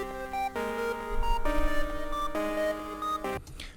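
A square-wave synth lead is shaped by a volume envelope so its stepping melody notes pump in rhythmic swells, sitting loud and upfront in a hip-hop beat with no voice over it.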